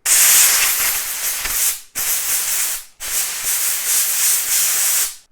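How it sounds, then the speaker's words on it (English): Compressed air blasts detergent off bicycle chains in three loud, steady hissing bursts separated by short pauses, close by with no talking. "And now I'm blowing the rest with the compressed air"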